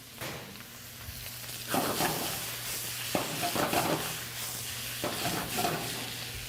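Cabbage hits a hot wok and is stir-fried, a loud hissing sizzle that swells with several bursts of scraping and tossing, with metal clatter from the pan.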